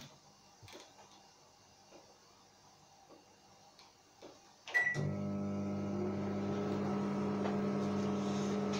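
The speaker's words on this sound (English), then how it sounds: "So all I need to do now is put the microwave on." A microwave oven starts with a beep and thump after some quiet clicks, then settles into a steady, close hum that runs on alone until the end.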